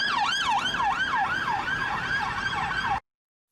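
Siren from an unmarked police car, a fast rising-and-falling wail repeating steadily at close range, loud and alone, cutting off abruptly near the end.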